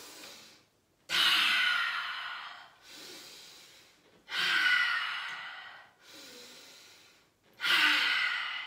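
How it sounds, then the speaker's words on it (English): Three deep, audible breaths drawn and released during a warrior-pose exercise, each a long rushing inhale or exhale, close to the microphone and evenly spaced with brief quiet gaps between them. "So you're gonna breathe in."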